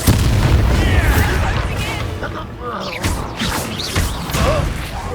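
Confringo spell blasts in the video game Hogwarts Legacy, loud booming explosions and bursts layered over battle noise and shouted voices, with several impacts across the span.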